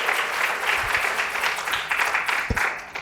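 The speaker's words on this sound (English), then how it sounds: "Let's give them another round of applause." An audience at a university honors conference opening session gives dense, steady applause that carries on for about three seconds at a loud, even level with a few sharper claps standing out.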